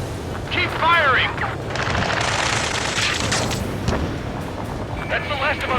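Sustained gunfire and explosive rumble in the combat flight game Ace Combat 7, with sweeping electronic tones, dense and loud; radio voices talk over the battle.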